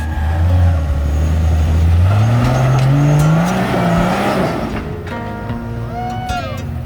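A one-ton Jeep Cherokee XJ strains up a rock wall on a Moab trail, its engine revving loud and close with a rising whine, then easing off into a lower idle with faint voices.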